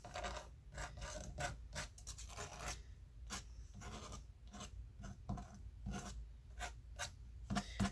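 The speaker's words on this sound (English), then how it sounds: "You can scrape." A card scrapes across wet watercolor paint on paper in a quick run of short, rasping strokes, close but faint, with brief pauses between scrapes and no talking.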